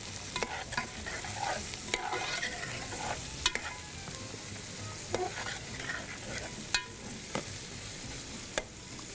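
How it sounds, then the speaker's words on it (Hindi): Chicken fries in a pan with a continuous moderate sizzle, broken by sharp clicks and scrapes of a spatula stirring the pieces. "इसे थोड़ा सा करेंगे फ्राई"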